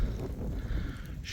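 Strong gusting wind during a rainy storm on an uphill path, buffeting the microphone with a loud, close, low rumbling roar that barely lets up across the short moment.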